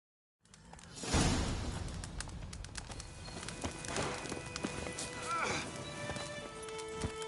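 Roach the horse galloping in The Witcher 3, a steady rapid clip-clop of hooves running close for several seconds, mixed with game ambience and a brief whoosh.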